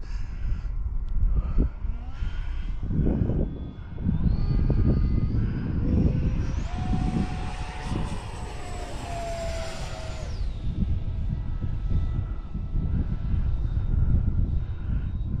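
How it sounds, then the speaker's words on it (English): A 70mm FF-117V2 electric ducted-fan RC jet flying on a 5S battery makes a steady high whine that rises into a louder, rushing pass in the middle, then eases off over continuous outdoor rumble. "Oh, that's just the force of that EDF."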